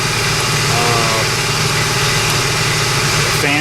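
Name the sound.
Infiniti QX56 V8 engine running after repair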